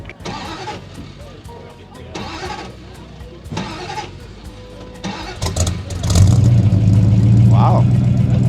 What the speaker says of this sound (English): I want to hear this V8.